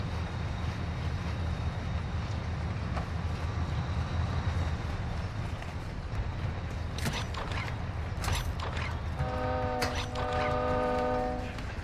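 A train rumbles past in the game DMZ, a steady low mechanical roar with creaks, then a loud sustained multi-tone horn blast near the end, no talking.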